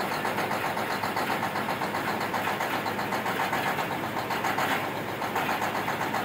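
A John Deere 1050C bulldozer's diesel engine idling while warming up in cold weather, a loud, close, continuous rhythmic chug with steady pulsing and no break.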